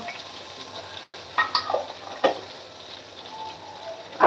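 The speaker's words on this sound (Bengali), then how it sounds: "আমি একটু কালো জিরে দিলাম কম" Black cumin seeds sizzle in hot oil in a home kitchen pan, a steady soft frying hiss broken by a few stirring scrapes and clinks of a utensil against the pan.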